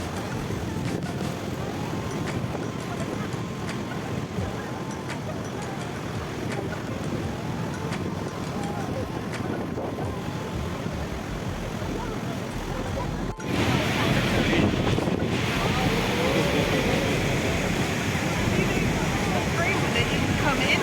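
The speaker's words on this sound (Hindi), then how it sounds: "अब ठीक हम फॉल के नीचे बोट के थ्रू हो जाते" Roaring water and gusting wind buffet the microphone on a boat ride beneath Niagara Falls, a steady broadband rush that swells louder partway through, with people faintly talking under the din.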